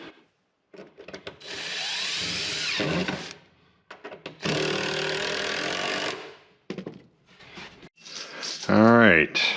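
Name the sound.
power tool driving into a 3/4 inch board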